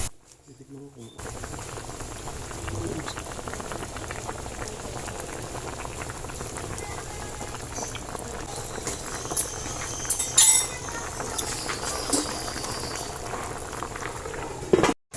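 Chicken adobo in coconut milk bubbling in a pot, a continuous soft simmering fizz with a few clinks of a utensil against the pot near the end, and a voice talking over it.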